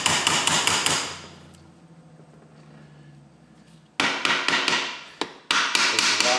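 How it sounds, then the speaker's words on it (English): Hammer taps on a Model T Ford transmission plate during a rebuild: a quick run of sharp metallic strikes, a quiet pause, then two more bursts of rapid close, loud blows. "We're going to give it a little tap."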